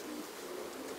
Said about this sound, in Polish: No i tutaj w tym gołębniku znajdują się gołębie rozpłodowe